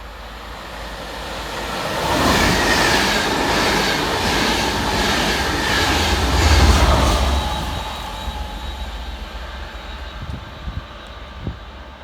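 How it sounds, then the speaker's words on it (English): A Transport for Wales passenger train, pushed by locomotive 67014 on diverted stock, passes fast through a station in the rain with a rising roar, a loud rumbling peak and a fading rush, wheel clatter near the end. "Passing fast on Divert for Transport for Wales, pushing stock HD04 is 67014"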